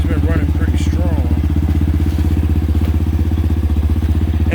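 An Apollo DB 36 250cc Deluxe dirt bike engine runs steadily and loudly up close with a throbbing rhythm, while a voice talks over it.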